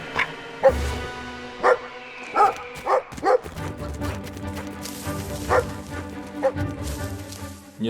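A dog in the video game Brothers: A Tale of Two Sons Remake barks repeatedly and close by, a string of sharp woofs and yips over a game soundtrack and ambience.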